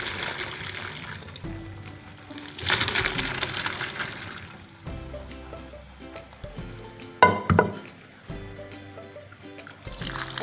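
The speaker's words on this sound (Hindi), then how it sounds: "अब मैं इसमें से पानी निकाल देती हूँ" Water poured off boiled pasta in a kitchen, with splashing bursts of draining liquid, metallic clinks of a pot and utensils, and a softer trickle between, close and moderately loud.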